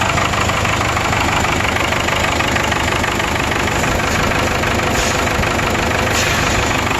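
A 1996 Vermeer SC1102 stump cutter engine, suffering a misfire and blow-by, runs loudly and steadily up close with a dense, unbroken mechanical roar.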